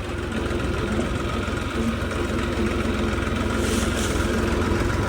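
A tractor engine idles steadily and continuously at close range, a low rumbling drone with no talking.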